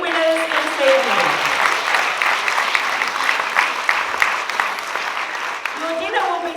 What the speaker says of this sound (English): Applause for our first 3 winners this evening.